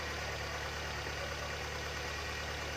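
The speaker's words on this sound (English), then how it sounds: "I'll fire up the engine." A car engine idles evenly after new engine mounts are fitted, a steady close hum with a faint repetitive low pulse and no voices.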